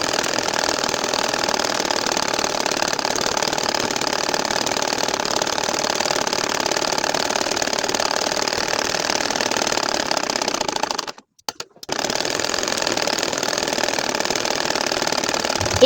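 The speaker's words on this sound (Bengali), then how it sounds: "এখন আর একটা লাইন আমি সেলাই করে যাচ্ছি" Sewing machine running steadily while stitching a line across a nakshi kantha quilt, a continuous dense mechanical whir that stops briefly for about a second near the end before resuming.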